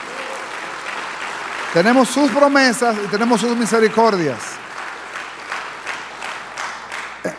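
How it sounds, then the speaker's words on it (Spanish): A church congregation applauds in a steady, moderate wash of clapping while a preacher's voice speaks over it in Spanish; the applause lingers softly after he pauses. "¿Alguien le da un aplauso al Señor por eso?"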